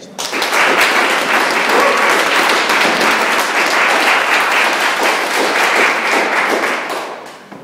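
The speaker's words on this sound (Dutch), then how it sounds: "Graag een hartelijk applaus voor het laatste quintet vijf gestreept." Warm audience applause for a wind quintet at a Mozart concert, many hands clapping loudly and evenly, swelling quickly and tapering off near the end.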